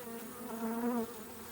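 Agitated Africanized honeybees make a close, dense buzzing hum that rises briefly in pitch and intensity before settling, alone without voices.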